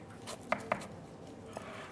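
A knife crunches through a crispy breaded cutlet, with two sharp crackling cuts close together and a fainter crunch afterward, quiet and close.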